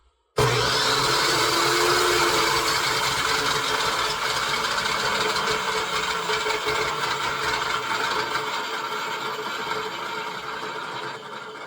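A cold cut saw blade with no brake, revved up then released, whirring loud and steady before slowly winding down over several seconds as it coasts to a stop, no talking.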